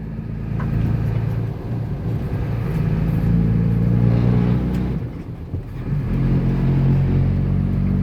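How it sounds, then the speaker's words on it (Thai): Six-wheel truck engine in second gear climbing steadily, a loud, sustained low rumble that swells and dips slightly as revs rise, close and continuous with no talk. "ลองขึ้นเกียร์สองดูครับ"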